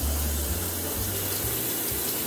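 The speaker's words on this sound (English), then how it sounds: "we're gonna fill it up with a little bit of hot water" Hot tap water runs into a pan, a steady close rushing stream with a low, pulsing hum beneath it, continuous throughout with no talking.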